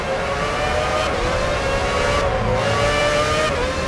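Formula 1 car engine from F1 2006, a Williams race car driven by Nico Rosberg, droning steadily at high revs with a shifting tone and brief gear-change dips, loud and continuous with no talk.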